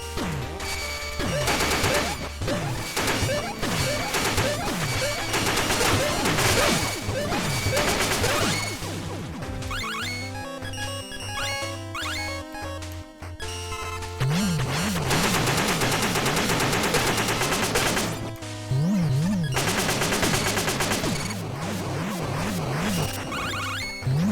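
Explosive weapon blasts from the Mega Man 8-bit Deathmatch game, a double black hole bomb, fire in rapid bursts of crunchy chiptune crashes and zaps, loud and dense, with warbling electronic sweeps later and no voices.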